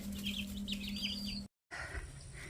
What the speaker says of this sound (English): Being happy chickens?